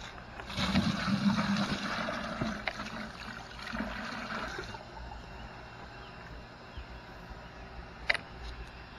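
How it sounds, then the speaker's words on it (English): Water poured into a distillation condenser on a pyrolysis oil setup, a steady trickling splash that fades after several seconds, leaving a quiet background and a faint knock. "Pour this water into the condenser."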